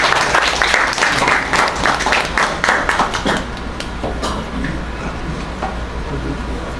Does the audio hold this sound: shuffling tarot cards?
no